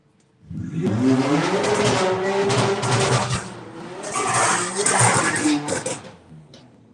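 Drag racing cars at Santa Pod, a BMW out in front and another car chasing, engines roaring loudly and steadily with rising revs, a voice talking over the noise throughout.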